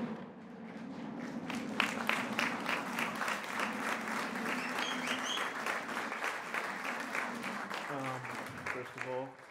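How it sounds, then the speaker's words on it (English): Standing wedding guests at Log River Ranch in Chama, New Mexico give the couple a big round of applause, dense sustained clapping that carries for several seconds before a voice starts speaking near the end. "if everybody would please stand with me, give them a big round of applause"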